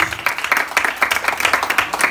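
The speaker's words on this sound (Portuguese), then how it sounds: "Você pode aplaudir o Senhor por essa palavra?" A congregation claps together during an outdoor street church service, a dense, steady patter of many hands with rhythmic pulses, loud and close, with no one speaking over it.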